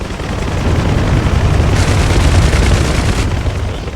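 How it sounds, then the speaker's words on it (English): Rockets fired from a helicopter and exploding in DCS combat flight simulation, a loud sustained roar and rumble of blasts and fire that fills the whole stretch, with no talking. "but then came up over the top, fired a few rockets"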